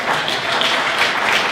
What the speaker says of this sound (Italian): Ho portato l'applauso.